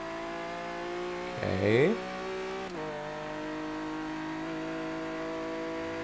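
A Lotus engine revs in Forza Horizon 3, a steady in-car drone that sweeps up sharply in a brief rev burst before shifting back to an even tone, with someone speaking briefly over it.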